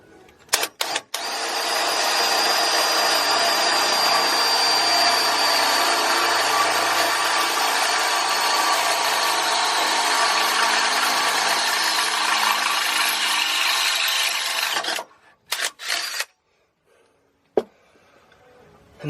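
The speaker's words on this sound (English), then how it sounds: "I'm going to drill the rest of these" A power drill bores a 7/16 hole through steel for an offroad solid axle swap kit on a 2500HD truck, a loud continuous whine and grind held for about fourteen seconds, then a few short bursts and stops.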